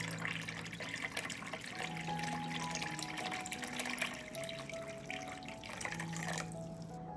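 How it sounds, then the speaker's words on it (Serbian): Tap water runs steadily into a cooking pot holding jars on a cloth, filling it up to lid height; a continuous, close splashing stream with shifting pitch as the level rises, ending abruptly, with no voices. "Vodu punim do visine poklopca."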